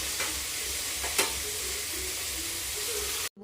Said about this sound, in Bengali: সমস্ত মশলা এখন দিবে, আদা, পেঁয়াজ, রসুন সব কিছু মশলাটা ভেজে ভেজে